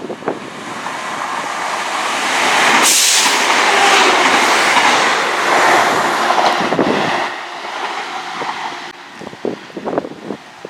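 A Sheffield passenger train rumbles past the station at Saltmarshe, swelling from a distance into a loud, sustained roar of wheels and carriages, then fading away with a few rattles and clunks at the end.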